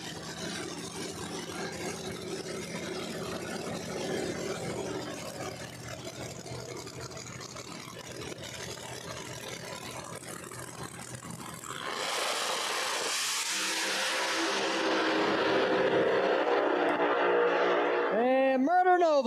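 No-prep drag race cars launch and roar down the strip at Empire Dragway in New York, a loud continuous engine roar that swells and rises in pitch, with announcer talk mixed in.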